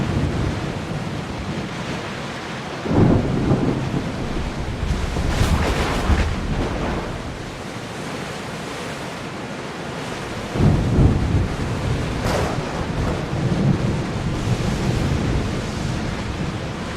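Thunderstorm with rain in Assassin's Creed Odyssey, a continuous roar of wind and rain broken by two loud rumbling thunder surges a few seconds apart.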